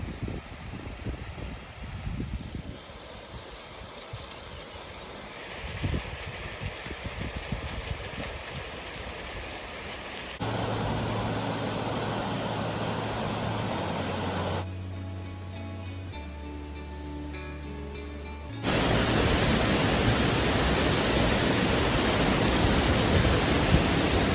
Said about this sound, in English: but this is the top of the big waterfall.